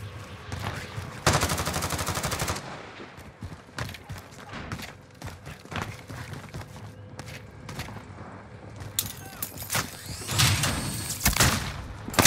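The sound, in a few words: gunfire in a video game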